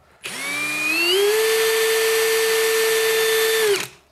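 A Parkside cordless drill spins up quickly to a loud, steady high-pitched whine, holds at full speed for a few seconds, then cuts off abruptly.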